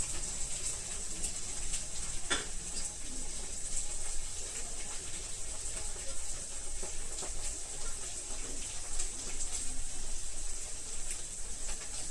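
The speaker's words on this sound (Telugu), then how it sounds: "ఇప్పుడు ఇదే టైంలో ఎండుమిర్చి కూడా వేసుకుందాం" Dried red chillies added to a hot pan during cooking of a beetroot dish, producing a steady, continuous sizzling hiss close by with faint crackles throughout.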